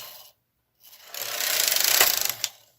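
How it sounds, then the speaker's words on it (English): A Brother KH230 knitting machine carriage is pushed across the bed, a rapid rattling clatter that builds and fades in a single pass, following a short earlier burst. "We're going to knit across."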